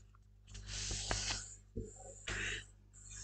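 Sheet of paper being opened and its first half folded toward the middle crease, giving close, soft crinkling and rustling with a couple of sharper crease swipes, over a low steady hum, with no talking.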